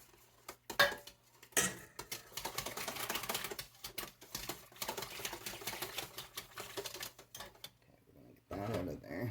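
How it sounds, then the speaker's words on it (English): Warm eggs for lemon curd are stirred in a bowl, with a utensil clinking and scraping in quick rhythmic strokes, close and moderately loud, briefly broken by a pause and short voice sounds. "I'll put that in there and stir it."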